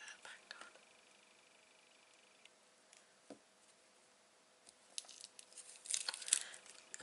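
Tape being pulled and pressed to join small pieces for a craft project, with faint crinkles and ticks early, then louder tearing and crackling bursts near the end, alongside quiet whispering.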